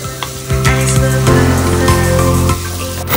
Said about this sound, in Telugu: కాబట్టి ఆ ఆలు పీసెస్ ఇక్కడ వేసేసుకోవాలి.